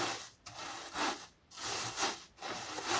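Dried tobacco leaves are rubbed and crushed between the hands, making a close, dry rustling rasp in three or four steady strokes separated by brief pauses, with no voices.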